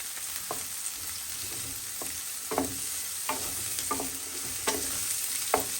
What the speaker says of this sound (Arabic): شويه البصله نشحرها مزيان